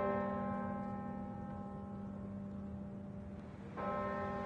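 A deep church-style bell tolls in a film soundtrack, its long humming resonance ringing out steadily before a fresh strike near the end renews the tone.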